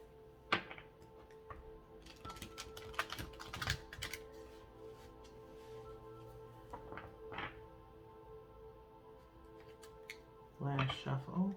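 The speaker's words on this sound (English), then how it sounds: "We do 3 shuffles, and then I separate by 3." A deck of oracle cards is shuffled by hand indoors, giving soft, quick riffling and tapping bursts under a quiet voice speaking, with a louder flurry of card shuffling at the end.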